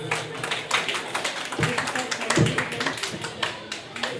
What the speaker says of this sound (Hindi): ताली तो बजा सकते हो ना आप?